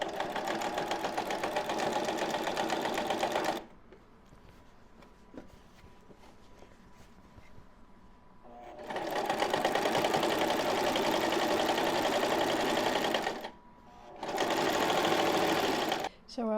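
A sewing machine runs in long steady bursts, stitching decorative thread onto a pillowcase, with a quiet pause between runs and a final short burst near the end.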